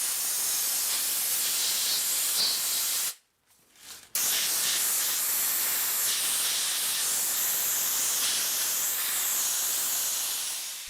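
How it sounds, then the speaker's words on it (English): Sandblasting dirt and rust off a scrapyard metal part produces a loud, continuous close-up hiss that cuts out abruptly for about a second, then resumes steadily. No voices. "I even use sandblasting to remove dirt and rust"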